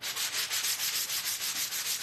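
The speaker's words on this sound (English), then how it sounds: "I'm gonna grab a sanding block here." A sanding block with white on its surface rubs back and forth on a wooden bow, giving rapid, even rasping strokes about six per second, close and quiet, with no voices.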